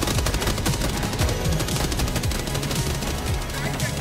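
Rapid automatic gunfire from the video game Helldivers 2 rattles continuously in dense bursts, loud and close, with overlapping shots and impacts filling the whole stretch.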